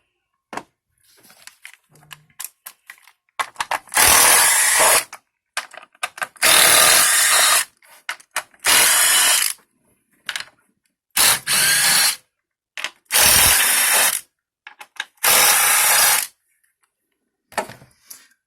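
Ratchet wrench spinning off 10mm ignition coil bolts on a Cadillac CTS 2.8L/3.6L V6, a series of about seven loud, close bursts of rapid clicking, each lasting a second or so, separated by short pauses with faint handling noises.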